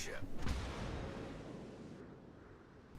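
Heavy naval gun salvo in the World of Warships game from a North battleship, a loud deep boom at the start that rumbles and decays over the next few seconds, with no talk.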